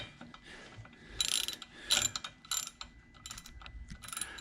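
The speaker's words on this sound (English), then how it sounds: "we're removing our decompression valve here" Mechanical clicks and ratcheting from tools working the decompression valve out of a Stihl MS 880 chainsaw engine, several sharp bursts around the middle, then lighter clicking, close and fairly loud with no talk.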